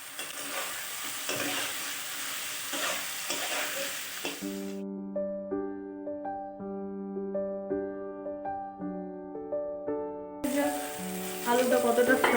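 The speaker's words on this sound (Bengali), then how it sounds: "আলুটা কতটা ফ্রাই হলো," Potatoes and mutton frying with turmeric in a pan for mutton chana masala, stirred with steady sizzling and scraping at the start and end, and a sustained musical tone playing through the middle section.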